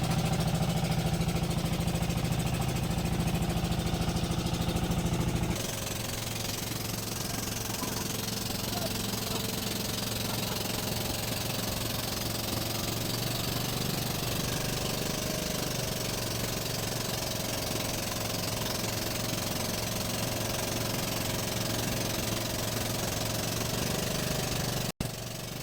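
A bangka motorboat engine near Sidanao island, Quezon, Palawan, drones steadily throughout, a continuous rumbling hum with a faint rattle, loud and close, with the tone shifting slightly after the first few seconds.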